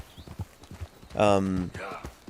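Hooves of a slow donkey clip-clop in Red Dead Redemption 2 in a steady, close rhythm of soft thuds, with a louder braying or snorting burst midway.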